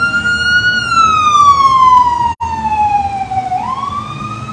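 An emergency vehicle siren wails close by at a street parade, a loud sliding tone that sweeps down and back up.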